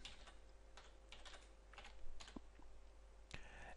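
Keys clatter on a computer keyboard as a name is typed, quiet close clicks in quick irregular bursts with a couple of louder keystrokes, no one speaking.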